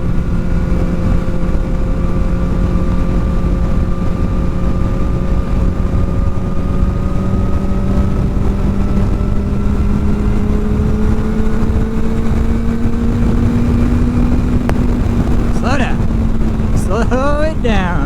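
A vehicle engine fitted with a new exhaust drones steadily while riding through town, its pitch slowly rising and falling with the throttle, constant and close, with someone speaking over it.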